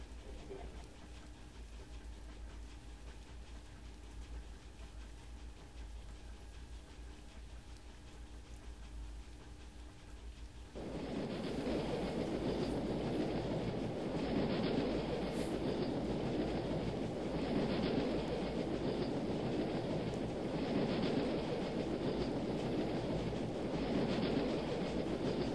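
A coaster train on a Second Life theme park ride, a quiet low hum at first, then a sudden loud, steady rushing rumble of the train running along the track for the rest of the clip, no voices.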